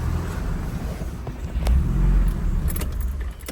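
A 1986 Dodge Daytona Turbo Z engine idles roughly nearby, its low rumble swelling in an uneven surge midway, with a few small metallic clinks on top.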